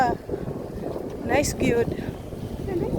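Steady wind rushing against the microphone outdoors, with people talking over it.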